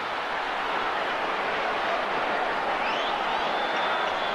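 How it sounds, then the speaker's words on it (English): Basketball arena crowd at the 1993 NBA Finals Game 5 between the Bulls and Suns, a dense sustained roar and groan of a large audience, steady and loud throughout with no distinct individual voices. "Crowd groans every time they see Marley has an open three-point shot."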